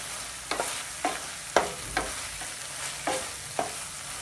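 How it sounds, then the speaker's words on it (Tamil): Tomatoes and green chilies mashed and stirred with a ladle in a hot pan for tomato rice: a series of regular scraping strokes about every half second over a continuous gentle sizzle, close up. "இந்த தக்காளி வந்து நல்லா கரண்டியால் வந்து மசிச்சு விட்ருங்க"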